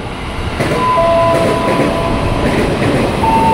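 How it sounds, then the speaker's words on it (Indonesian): A KRL commuter train pulls into a station platform on a line to Bekasi, a loud steady rumble of rail cars filling the space, with a sustained tonal whine or announcement chime over it and no talk. "Masuk di jalur 1 komuter lain tujuan akhir stasiun Bekasi hanya sampai stasiun Bekasi."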